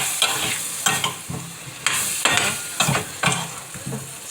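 Zucchini sautés in butter in a pan, a steady close sizzle broken by repeated scraping stirs roughly every half second, with no voices.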